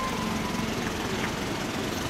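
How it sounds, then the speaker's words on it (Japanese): A 2016 Suzuki Hayabusa engine fitted with an LCI Parts aftermarket muffler runs with a dense, steady, rumbling exhaust note, loud and close throughout with no pauses. "エンジン音聞かせてもらえる？"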